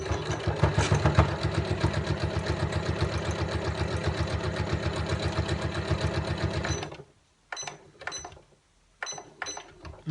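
A Janome MC9900 sewing machine stitching a drawstring bag, running in a fast, even mechanical chatter for several seconds, then stopping, followed by a few short clicks and brief bursts of stitching.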